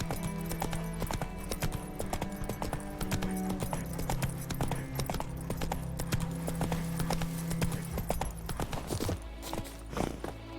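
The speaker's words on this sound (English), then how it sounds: "Whoa there, Roach" A horse's hooves clip-clop steadily at a gallop in the video game The Witcher 3: Wild Hunt, a loud, continuous rhythmic pounding with game music underneath.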